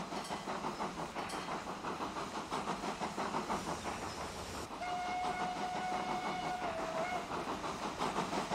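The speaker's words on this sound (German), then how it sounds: "Und hier pfeift für den Bahnübergang." A steam-style train whistle sounds at a level crossing in the video game Transport Fever 2, one sustained blast partway through over continuous rolling rail and wagon noise.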